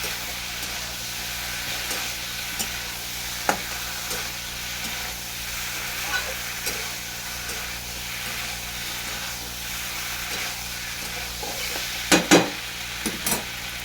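Ginger-garlic paste fries in a pan while being stirred, giving a steady soft sizzle with occasional scraping strokes and a few sharper clatters of the utensil near the end, close and fairly quiet, with no talking.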